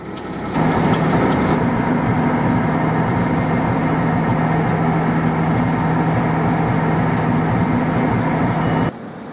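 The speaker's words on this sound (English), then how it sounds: "Now we need to increase the RPM to 1500 and hold it there." A car engine runs loudly and steadily at a raised 1500 RPM during an alternator test, a constant droning hum with a slight whine. It starts with a rise in level just after the beginning and drops off near the end.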